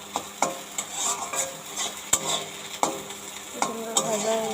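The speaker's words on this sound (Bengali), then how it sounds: "আমার আলু ভেন্ডি ভাজা হয়ে গিয়েছে" Potato and okra frying in a pan are stirred repeatedly, each scrape of the spatula bringing a sharp clack over a soft, steady sizzle, close and clear.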